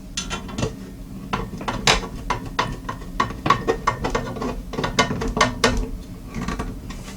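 Screws being driven into a Thermaltake Core P1 mini-ITX PC case, a run of quick ratcheting, metallic clicks in irregular bursts, close and fairly loud, with no talking.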